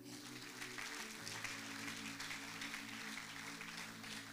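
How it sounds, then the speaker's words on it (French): A church congregation applauds at a sermon, a dense, steady wash of clapping that fills the whole stretch with a tonal hum beneath it. "Acclame pour le Seigneur."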